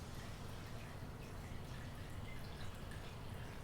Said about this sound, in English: the trickle of water